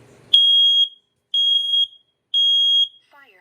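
A combined smoke and carbon monoxide alarm under test sounds three loud, piercing high-pitched beeps, each about half a second long and evenly spaced, with a little faint background noise before and after.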